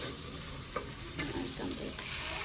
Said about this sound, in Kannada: ಇವಾಗ ಟೊಮೊಟೊ ಉಳ್ಳಾಗಡ್ಡಿ ಅದೇನು ಪೇಸ್ಟ್ ಮಾಡ್ಕೊಂಡಿದ್ನಲ್ಲ ಅದನ್ನು ಫ್ರೈ ಮಾಡ್ಕೊಂಬ್ರಿ ನಾವು ಚೆಂದಾಗಿ